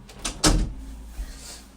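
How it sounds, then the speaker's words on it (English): A household door is pulled shut quickly, giving a close, solid thump with a brief rattle before the room settles, and a softer knock follows a moment later. "I'm just going to shut my door quickly because the dogs are..."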